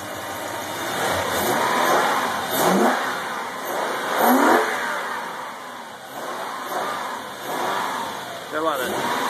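A Toyota 2UZ-FE V8 in a third-generation 4Runner revs repeatedly, each blip of the throttle rising and falling in a series of close, loud swells over a running idle.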